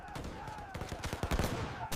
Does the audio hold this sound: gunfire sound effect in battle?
yes